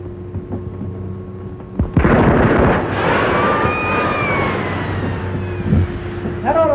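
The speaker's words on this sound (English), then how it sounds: "Give us a reverse rocket, Charlie." A reverse rocket fires on a spaceship in a 1930 science-fiction film, bursting into a loud roaring blast after a quiet start and sustaining with whistling, sweeping tones, with a brief rumble near the end.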